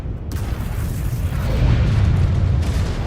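Missile impact in the MechWarrior 5: Clans video game, a sustained loud rumbling boom that swells and rolls on without a break, heavy with low-end roar.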